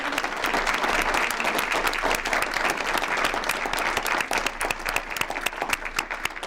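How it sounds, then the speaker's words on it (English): Dense, steady applause from an audience at a school board meeting in Livonia Public Schools, many hands clapping together at close range and sustained for several seconds without a break. "One more round of applause."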